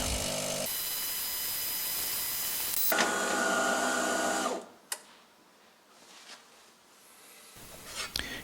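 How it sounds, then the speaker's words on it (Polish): A De'Longhi Magnifica S coffee machine runs a rinse cycle during descaling, its pump buzzing steadily and loudly for about four seconds with a shift in tone midway, then dropping to quieter gurgles and faint clicks. "I teraz zaczyna się płukanie."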